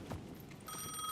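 A telephone rings in the video game Alan Wake 2, a faint electronic bell trill starting partway through and holding steady over quiet ambient background.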